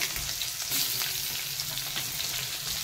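Onion sizzling in hot oil with black cumin and mustard seeds for a taro curry, a dense, even crackle with light stirring, close and continuous with no voices.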